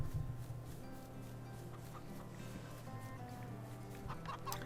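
Farmyard chickens clucking softly in Farming Simulator 22, scattered faint clucks over a steady low background hum, with no talk.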